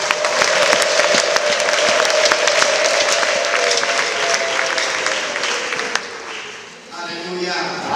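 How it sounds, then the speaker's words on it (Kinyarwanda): A church congregation applauds and ululates in praise of God: loud, dense clapping with a high trilling ululation running through it, fading toward the end as a voice begins speaking. "guha Imana amashyi n'impundu"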